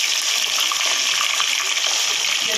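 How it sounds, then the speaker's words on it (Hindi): Steady, bright sizzle of onions dropped into hot oil in a pan for pakora curry, loud and close, a continuous hiss with crackling spits and no talking. "अब हम इसमें प्याज डालते हैं।"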